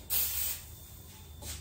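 Magic oven grill cleaner sprayed from an aerosol can onto an oven grill: two close, hissing bursts, a longer one first and a shorter one after a pause.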